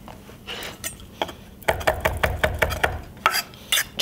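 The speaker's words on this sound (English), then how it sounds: "Just a rough chop." Fresh dill is roughly chopped with a knife on a cutting board, a quick run of rhythmic taps and thuds that starts sparse and then speeds into a steady, close chopping.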